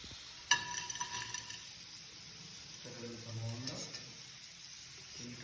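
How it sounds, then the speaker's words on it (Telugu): Food frying in oil until golden brown makes a faint, steady sizzling hiss, broken by a sharp clink early on and a short stretch of speech partway through. "ఈ గోల్డెన్ బ్రౌన్ కలర్ వచ్చే విధంగా ఫ్రై చేసుకోవాలి"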